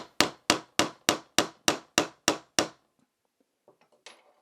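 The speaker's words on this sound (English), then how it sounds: "So I grabbed a real hammer, and we're making some progress here." Nine sharp, evenly spaced hammer strikes drive a pin out of a Walther PPQ pistol, loud and close, with a short pause and a few faint handling clicks and scrapes afterward.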